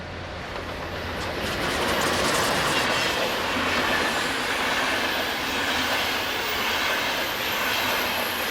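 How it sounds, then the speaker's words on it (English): Intercity train hauled by electric locomotive 101015 through the Rhine Gorge in Germany, a loud sustained rumble and rush of passing wagons with a faint wheel squeal, heard alone. "101015 heads north with the 1240 intercity service from Heidelberg to Emden"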